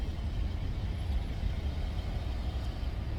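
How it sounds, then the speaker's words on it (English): Low rumbling road traffic heard from inside a moving vehicle, a steady broadband engine and tire drone with no distinct events, moderately loud and continuous throughout. "Excuse my background noise because I'm in traffic."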